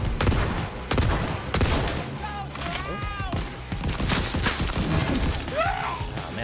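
Bursts of gunfire from a gun in the Borderlands 4 video game, loud sharp shots and automatic fire mixed with impacts and chirping game effects, fairly constant throughout.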